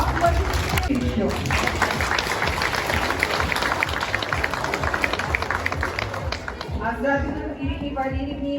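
A crowd applauds fourth graders at a last-bell school ceremony in Ukhta, Komi Republic, with dense, continuous loud clapping throughout and a voice speaking over it near the end.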